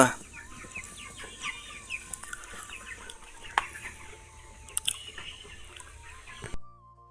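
Several chickens cluck and squawk close by in a steady farmyard chorus, with occasional sharper calls and no talking.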